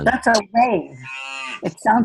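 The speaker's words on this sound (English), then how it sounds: "It's a cow! It's a cow." A recorded cow moos once in a long, drawn-out, steady call, played back during a lesson on harmonics and timbre, with brief talk before and after it.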